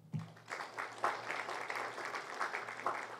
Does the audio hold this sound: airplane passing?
no